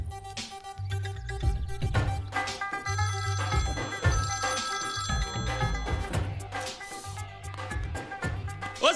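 An indoor telephone rings in a film scene, a bright electronic trill repeating over a steady bed of background music with deep bass pulses, moderately quiet and with no talking.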